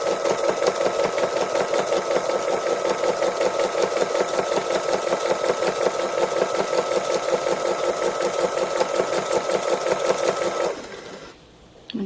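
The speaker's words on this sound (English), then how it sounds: "Stitch all the way around." A sewing machine stitching free motion embroidery on a fabric cow runs in a steady, close, rapid mechanical chatter for about ten seconds, then slows and stops, leaving a few soft handling sounds.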